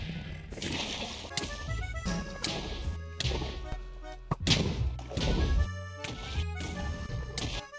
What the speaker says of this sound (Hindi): अभी सारे के सारे एंड क्रिस्टल फूट चुके हैं इसके